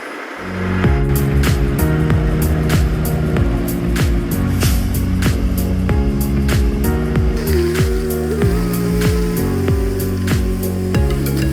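A loaded truck carrying harvested lavender drives along toward the distillery, its engine droning steadily and loud throughout with shifting tones as it moves, without speech.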